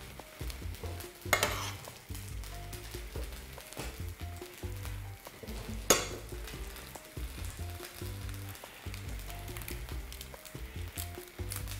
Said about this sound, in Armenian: Ամբողջը կփաթաթենք, որից հետո կմնա միայն տապակել։